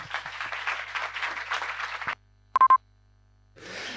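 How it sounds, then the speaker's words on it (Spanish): Audience applause at a tech conference talk, a steady burst of clapping for about two seconds, then cut off by a short electronic beep and silence before noise resumes. "Un aplauso."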